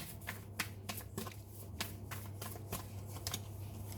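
Tarot cards being handled and drawn, a quick run of soft papery flicks and slides at close range, with a low steady hum underneath.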